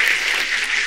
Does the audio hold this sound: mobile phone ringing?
no